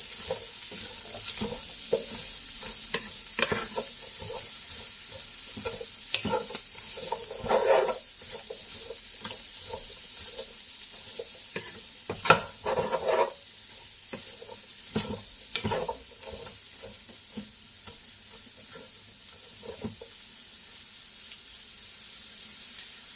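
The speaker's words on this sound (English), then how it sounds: "I'm going to stir it around, get it nice and coated, and let that cook." Food sizzles steadily in bacon fat in a pan while a utensil stirs it, giving intermittent scraping and clattering over a constant close frying hiss.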